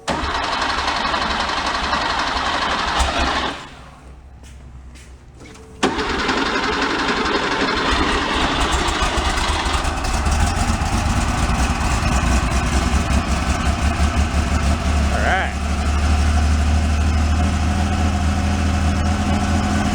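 A flood-damaged Porsche 911 engine cranks, catches and settles into a rough, steady idle, loud and close, with a brief quiet stretch early on before it fires.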